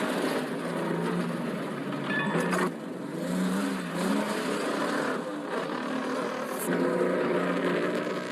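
Sedan car accelerating hard on a desert road, a steady loud engine roar with a few brief surges across the stretch.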